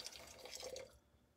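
Water pours from a pour-over kettle in a steady, close splashing stream for about a second, then stops, leaving a quiet room.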